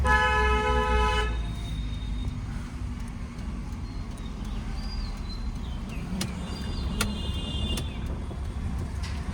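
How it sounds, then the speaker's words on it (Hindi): A car horn blares in one long, steady honk at the start, then fades into engine and road noise from inside a moving vehicle. "Long horn."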